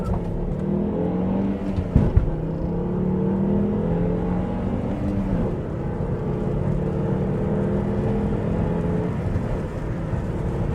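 A 2011 Volvo C30 T5 R-Design's turbocharged 2.5-liter five-cylinder with 6-speed manual revs and pulls hard, its warbling harmonics rising and falling through gear changes, loud and close with a brief sharp thump early on.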